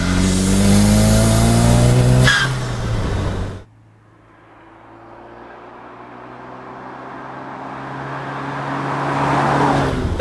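A Zenos E10 R lightweight sports car revs hard while driving on a road, engine loud and rising through the gears, then drops off sharply before building again, with no talking.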